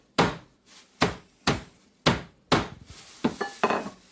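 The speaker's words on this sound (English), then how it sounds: "You can always turn the bag over and break them a bit more if you want to." Plain biscuits such as digestives or rich tea broken up in a bag with a series of sharp, loud, close thumps at a steady beat, giving way to quicker, lighter crunching knocks.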